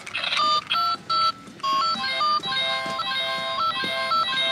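Toy phone buttons beep in a quick, irregular run of bright electronic tones, some short and some held, sounding close and clear over faint room noise.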